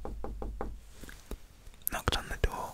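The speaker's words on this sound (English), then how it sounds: "knocked on the door" Knuckles rap a door four times in a quick, evenly spaced series, close and fairly loud, followed by soft whispering and a few faint handling clicks.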